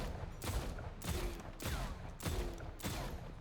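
Repeated gunshots from shooting in a video game, about five evenly spaced bursts, loud and close over a steady background.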